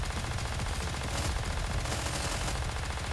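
Rapid, continuous gunfire from shooting in the video game Nikke, dense and loud throughout with no gaps, like sustained automatic weapons fire.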